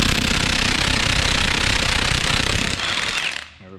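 An impact wrench with a 19mm socket rattles loudly and continuously while loosening the front wheel lug nuts on a Honda Civic, then cuts off abruptly.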